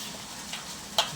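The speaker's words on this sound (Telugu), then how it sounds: "ఇలా కలపడం వల్ల మనము వేసుకున్న ఈ మసాలాలన్నీ మంచిగా పట్టేస్తాయి అన్నమాట మామిడికాయ ముక్కకు" Mango pieces for a Telangana-style pickle are stirred with oil and masala, making a soft, wet mixing rustle with a couple of small clicks from the spoon against the bowl.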